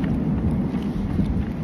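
Steady rain falls outdoors, a dense, even hiss of drops with a low rumble underneath, continuous and fairly loud, with no voices.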